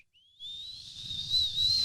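A voice imitates the whistle of a fast-kicked rubber soccer ball, a thin rising whistle that swells and holds steady, with low breathy rumble beneath.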